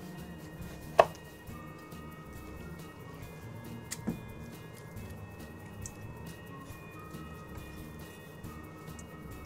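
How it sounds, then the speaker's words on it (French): A knife slicing through a melon for a sea bream tartare, with two distinct sharp cuts about three seconds apart over a steady quiet kitchen background, no talking. "on va passer au découpage du melon"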